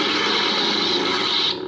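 Crackling, snapping distortion from a lightsaber sound font on a Vader's Vault hero saber, a dense continuous buzzing crackle held for nearly two seconds before cutting off abruptly.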